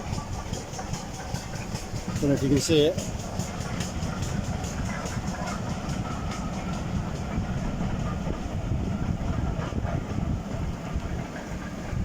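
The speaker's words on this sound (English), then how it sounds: "we've got a steam train coming by." A steam train rumbles past in Devon, UK, with a heavy, continuous chugging and rolling noise close by, while a person speaks briefly over it.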